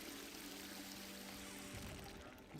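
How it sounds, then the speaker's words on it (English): Toilet water spraying in a video game, a steady broadband hiss of pouring, trickling water that runs continuously and loudly throughout, with no voices. "You get sprayed with toilet water."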